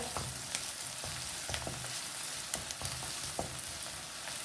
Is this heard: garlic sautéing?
yes